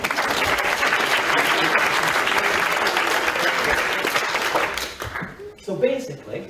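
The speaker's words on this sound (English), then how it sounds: "Give yourself a clap." A group claps for itself during a yoga class, a dense, steady burst of applause that fills most of the moment before thinning out, with a few scattered claps and voices at the end.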